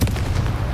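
A Confringo blasting spell fired in Hogwarts Legacy, a short, punchy explosive boom with a rumbling low tail, loud and close.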